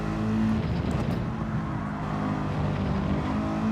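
A Mercedes race car runs steadily in Gran Turismo 7, its engine drone loud and continuous with a sustained low tone throughout, and no talk over it.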